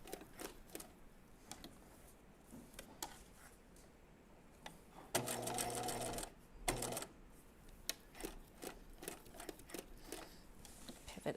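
A sewing machine stitches a quarter-inch seam around a pair of jeans, mostly a soft intermittent clicking and ticking, with two louder bursts of steady motor whir, heard close and quiet.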